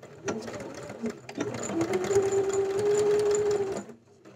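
A sewing machine stitches a short backstitch to lock the seam on a beginner's honey bucket bag lining, a steady mechanical whir that starts and stops, then runs for a couple of seconds before halting, close and alone.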